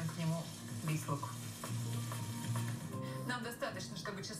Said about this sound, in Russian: Сначала слегка подрумяним чеснок, а потом отправим к нему весь лук.